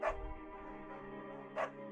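A beagle named Bucket in the video game Firewatch gives two short barks, one at the start and one near the end, over a soft sustained musical drone.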